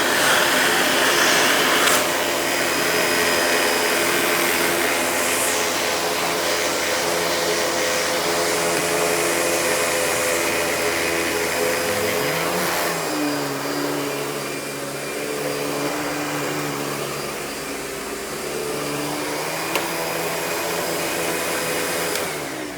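A Panasonic Performance Plus MC-V5217 upright vacuum cleaner runs steadily and loudly throughout, its motor drone shifting pitch slightly partway through as the machine is moved.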